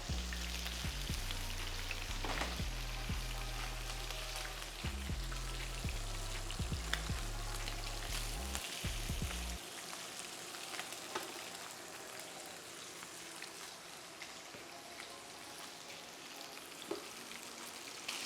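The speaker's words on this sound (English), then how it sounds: "we're gonna let this sear on both sides about a minute each" Pork belly sears in a hot pan for a sous vide Asian-glazed bao bun dish, giving a steady, close sizzle and spatter that runs throughout, with a rumbling low thump in the first half and no talking.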